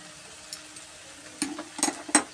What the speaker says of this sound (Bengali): আর একদিকে দিয়েছি ঢেঁড়স আলু ভাজা